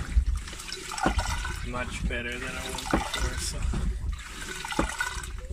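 A repaired marine toilet aboard a sailboat flushes, then gurgles and trickles as water refills, with someone speaking over the splashing.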